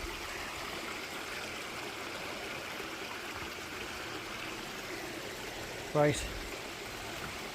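A woodland river flows and trickles steadily nearby, with a short loud thump and rustle near the end and a brief spoken word.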